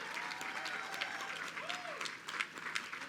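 Audience applause at the Kosciuszko Bridge opening reception, a steady wash of clapping from a crowd at moderate level, with a faint tonal whine and a little background voice mixed in.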